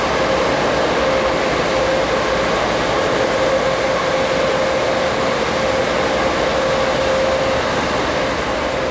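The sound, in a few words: Amtrak Auto Train passenger coaches being pulled through rail yard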